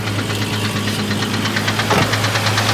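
An idling Jeep engine with a steady, rapid metallic knock from a piston, close and continuous over the low rumble.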